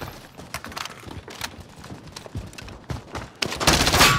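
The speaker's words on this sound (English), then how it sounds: "Under hostile fire." Hostile gunfire in a video game: scattered sharp shots and crackling bursts at moderate distance, irregular at first and then swelling into a louder, denser volley at the end.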